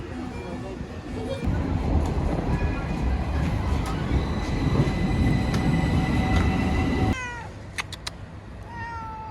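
An Istanbul tram rumbles along at a steady, fairly loud pace for several seconds with a bright squealing tone on top, then the rumble drops away near the end and a few squeaks follow.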